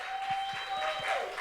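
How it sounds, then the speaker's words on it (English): Applause from an audience at a music awards ceremony, a steady broadband patter of many hands with a sustained tone and faint crowd noise underneath, short and moderately loud. "A louder round of applause, please."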